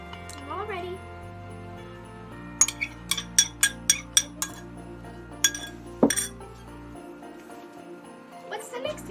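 Utensil clinking against a bowl while stirring cake ball batter, a quick run of sharp, bright taps in an even rhythm, close by, with quiet talking around it.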